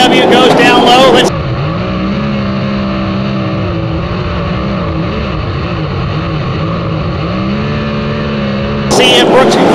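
Sprint cars racing on a dirt track in a 40-lap A-main at the Fall Nationals, a loud continuous engine roar with a steady drone, while a commentator talks over it at the start and end.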